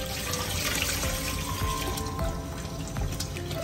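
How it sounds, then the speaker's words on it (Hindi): Water runs steadily from a kitchen tap into a vessel to soak rice for Sindhi biryani, a continuous splashing, gurgling flow heard close up with no talk. "अब इसको मैं भिगो दे रही हूँ।"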